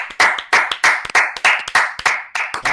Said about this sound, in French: allez, tout le monde applaudit